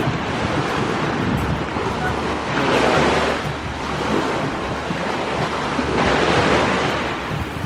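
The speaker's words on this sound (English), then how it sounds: "Sound of the waves." Ocean waves roll in and wash ashore at a small alcove near El Nido in the Philippines, surging loud in slow swells over steady wind buffeting against the microphone.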